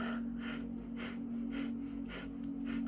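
Slow, deep breaths repeat about five times in a steady rhythm over a constant low hum, close and fairly soft.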